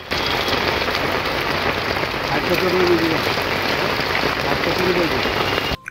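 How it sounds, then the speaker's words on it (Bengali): Heavy rain pours down at an outdoor market, a dense, loud, steady hiss of drops on surfaces filling the whole stretch, with faint voices briefly audible beneath it. "অন্যদিকে চলছে মুষলধারে বৃষ্টি"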